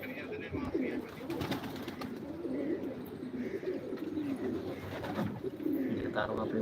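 Old pigeons coo softly in low, repeated murmurs, with a voice talking faintly at times in the background.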